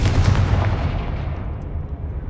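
The Confringo blasting curse in the Hogwarts Legacy video game sets off a loud, dense burst of booming, crackling impact that rolls and fades over about two seconds.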